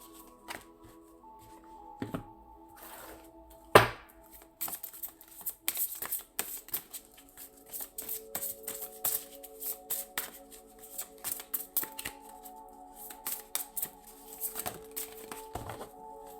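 Oracle cards, a Lucy Cavendish deck, are shuffled by hand in soft, quick riffling patters and taps, close and fairly quiet, with no talking.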